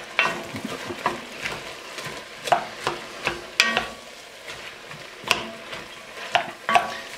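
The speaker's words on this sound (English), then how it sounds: "Onions are cooking, boy." Onions sizzle steadily in a hot pan for a Senegalese chicken yassa, broken by a series of sharp scraping stirs and clinks of a utensil against the pan, close and fairly loud with no talking.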